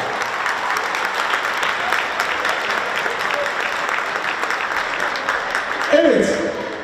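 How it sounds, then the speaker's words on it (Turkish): At a boxing champion's plaque award ceremony in Hatay, a crowd applauds continuously and fairly loudly as an honoree comes up, and a voice rises briefly near the end. "Ve Ünal Güzhan geliyor. Büyük alkışlarla."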